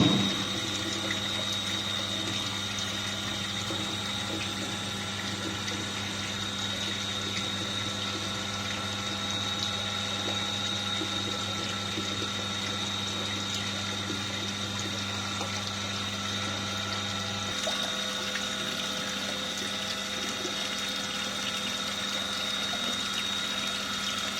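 Water flowing into a collecting tank on a flow measurement rig, a steady pump hum and rushing water, constant and even, with a slight drop in one tone near the end.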